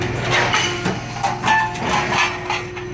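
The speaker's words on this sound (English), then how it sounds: "Coil runs through these rollers and shapes into 3 5/8 inch studs." A roll-forming machine shapes steel coil into dimpled 3 5/8 inch studs cut to length, giving a steady mechanical drone with a held tone and scattered knocks and clanks, close and continuous.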